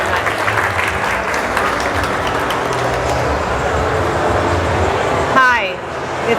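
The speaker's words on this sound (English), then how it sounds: "Round of applause." A conference audience gives a sustained round of applause to welcome a speaker onto the stage at a medical cannabis talk, a dense, steady clapping that fades near the end as a brief chirping tone cuts in.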